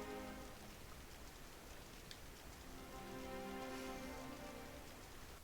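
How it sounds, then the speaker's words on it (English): Steady rain falls throughout a Final Fantasy 8 scene, a constant hiss of drops on a surface with faint music beneath, no voices. "Young Squall out in the rain, on his own, waiting for his sister"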